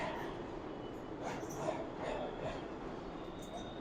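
A 6 train pulls into the uptown platform at 28th Street subway station, a steady rumbling roar with rail noise and faint squeal building and echoing in the station for several seconds.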